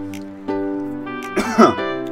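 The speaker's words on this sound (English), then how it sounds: "That was so poetic I coughed." A single short cough bursts out over a steady tonal background, brief and fairly close, with a slight throat-clearing rasp.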